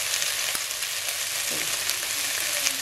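Ginger and garlic frying in oil in a pan, a steady, even sizzle heard up close and alone with a few faint stirring clicks.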